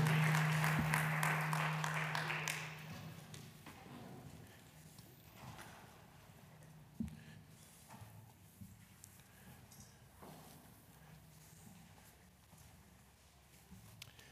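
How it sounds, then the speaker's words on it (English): A church congregation claps their hands in a brief, dense burst of applause that fades after a couple of seconds, leaving a quiet sanctuary with only faint scattered sounds. "Give them a hand clap as they go."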